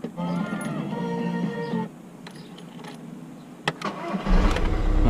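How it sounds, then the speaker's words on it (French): A Seat Leon 1.9 TDI diesel from 2008 cranks and fires up, a whirring starter giving way to a rough engine catch and then a steady, loud idle close by, with brief clunks in between. "Là ce que vous faites, c'est que vous démarrez le moteur."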